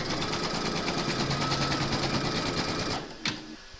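An embroidery machine stitches a round placement outline for batting, giving a steady, fast mechanical chatter that runs close and continuous, then stops abruptly with a brief clack near the end.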